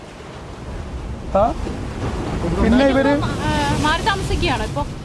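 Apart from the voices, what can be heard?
sea waves surging near a house in Kerala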